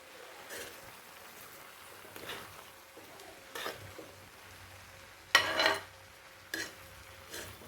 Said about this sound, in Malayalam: അരപ്പിട്ട് കൊടുത്തതിന് ശേഷം നന്നായിട്ട് ഇളക്കി കൊടുക്കാം.